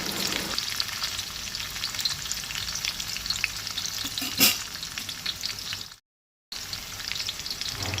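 Chopped garlic cloves, ginger and a green chilli frying in hot oil in a pan for a Goan dish, giving a steady close crackling sizzle with one sharp clatter partway through and a brief silent gap.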